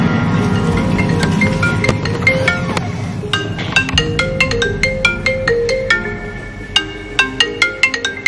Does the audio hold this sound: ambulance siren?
no